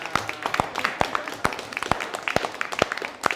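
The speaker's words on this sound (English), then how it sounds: "A round of applause to all of you." Scattered, uneven clapping from a small audience after a board game presentation at a conference, with distinct individual claps in a loose rhythm and voices murmuring underneath.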